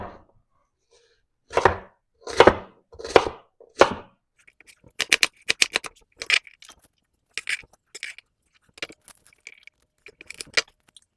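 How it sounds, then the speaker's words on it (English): An onion being chopped with a knife on a cutting board, first a few slow heavy cuts, then a quicker run of sharp, close, crisp taps. "And our onion, we don't want to cut this up too small because they'll just cook into nothingness."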